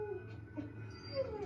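Dog whimpering in The Last of Us TV episode, soft high yips and whines over a low background hum, faint and close, with no speech.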